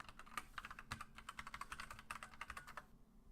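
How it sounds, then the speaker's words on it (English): Quiet, quick keystrokes on a computer keyboard form a rapid run of clicks that stops just before the end. "You'll type in your address."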